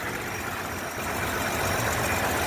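A 1955 Willys Jeep four-door wagon with its Super Hurricane engine and single-barrel Carter YF carburetor idles nearby, a steady, rough mid-pitched rumble that holds even for a couple of seconds without speech.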